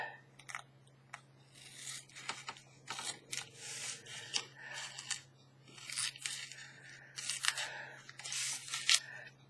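Scissors snip through paper while cutting out handmade paper bags, giving a close, steady run of crisp crunching cuts with short pauses and no talking.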